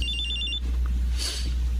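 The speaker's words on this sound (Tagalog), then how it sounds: "Kaya nagriring ang telepono ko." A telephone rings in a home with a repeating electronic ringtone, a quick string of evenly spaced high beeps that stops partway through, leaving a low room hum.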